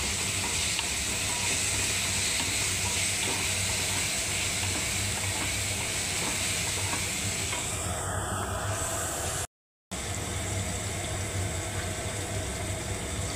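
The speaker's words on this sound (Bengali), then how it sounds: "এবারে আমি এই টমেটো পেস্টটাও দিয়ে দিচ্ছি বন্ধুরা। দেখুন, এবার আমি নাড়তে থাকবো বন্ধুরা।" Tomato paste stirred in a hot pan for a paneer curry, giving a continuous loud sizzle and hiss with occasional scraping. A brief dropout occurs near the end.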